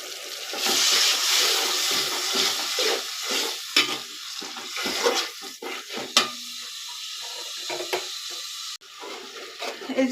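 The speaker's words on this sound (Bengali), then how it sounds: "এই যে দেখেন আদা রসুনটা একটু নর্মালি ভাবে কষায় নিলাম।" Ginger and garlic paste sizzles and fries in a pan for a beef curry while a utensil scrapes and stirs through it in irregular strokes, close and steady, with no one speaking.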